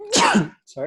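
One sharp sneeze bursts out close to the microphone, and a short spoken word follows right after it.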